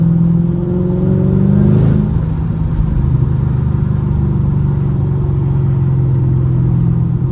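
Mercedes W211 E55 AMG V8 exhaust rumbling steadily and loudly from inside the car during a drive, with a brief rise in revs early on before settling into a constant droning cruise.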